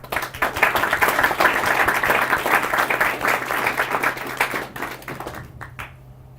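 Audience applause at a San Diego developer event, a dense burst of clapping from many hands that holds steady for several seconds, then thins out and fades.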